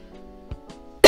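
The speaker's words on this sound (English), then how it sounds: "I cough all the time" A single short cough from a young person bursts out at the end, close and loud, after a quiet stretch with a faint tonal hum and a couple of small throat sounds.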